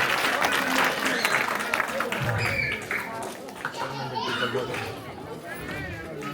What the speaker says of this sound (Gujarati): ચાલો તાળી ચાલુ રાખો પ્લીઝ